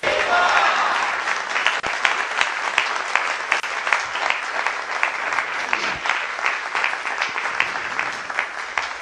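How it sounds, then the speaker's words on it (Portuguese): A Catholic congregation applauds at a religious gathering honoring Our Lady, loud sustained clapping from a large crowd with scattered cheers over the first seconds. "quem gostou, aplaude a Rainha e Mensageira da Paz"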